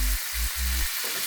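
Taro greens with sugar fry in a pan, giving a bright, steady sizzle with low thumping stirs underneath, brief and close.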